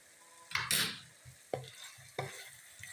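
Spoon scraping and stirring cumin seeds and black pepper powder through a hot pan of potato, pea and carrot vegetables, a few distinct scrapes over a soft sizzle, close and moderately loud, no talking.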